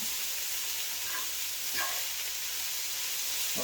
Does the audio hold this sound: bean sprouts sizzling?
yes